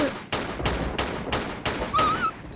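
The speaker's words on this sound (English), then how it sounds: "What are we shooting at?" Gunfire in Tomb Raider 4: The Last Revelation cracks out as about six evenly spaced shots, each a sharp loud burst with a short tail, followed by a brief electronic tone.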